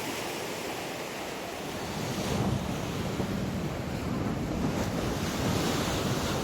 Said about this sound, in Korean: 저기는 바닷물이 이렇게 바다가 파도가 치는 곳이라서